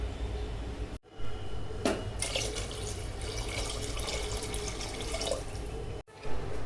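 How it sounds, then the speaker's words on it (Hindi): Water pours steadily into a cooking pot for paya soup, a close, continuous splashing rush broken by two brief pauses. "अब इसको हल्का सा फ्राई करके मैं इसमें पानी डाल रही हूँ।"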